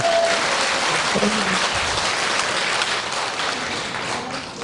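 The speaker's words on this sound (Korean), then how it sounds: "박수 더 쳐야 돼요" Steady, dense applause from an audience at a Won Buddhist volunteer association officers' training lecture, a continuous wash of many hands clapping that slowly fades toward the end.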